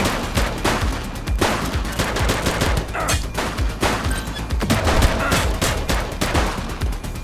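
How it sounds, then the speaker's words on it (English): Police shootout in the crime game The Precinct: dense, continuous gunfire with overlapping shots and rapid bursts fills the whole stretch, loud and close, without spoken lines. "He's shooting!"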